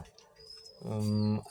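A child mimics a dove cooing with one short, low, humming coo at the end, close and fairly loud after a brief quiet stretch.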